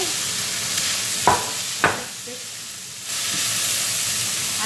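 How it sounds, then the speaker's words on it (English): Dried shrimp fry in a wok with a continuous sizzling hiss. A couple of sharp scraping stirs cut in, then the frying swells louder again. "let it just fry for a while"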